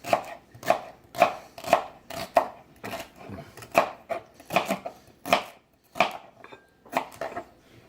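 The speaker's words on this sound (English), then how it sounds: "Your celery stalk here, you might want to cut that up" A knife chops a celery stalk on a cutting board in a home kitchen, a steady series of about a dozen sharp, close knocks with short irregular pauses between them, heard clearly and alone.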